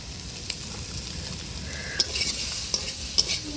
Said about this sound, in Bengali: আলু সয়াবিনটা কত সুন্দর ভাজা হয়ে গেছে দেখো তো